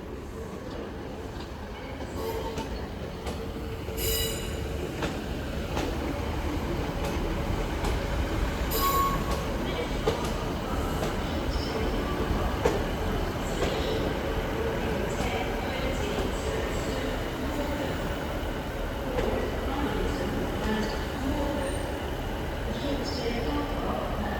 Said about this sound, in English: Next service arriving is a northern service from Carlisle, 156448.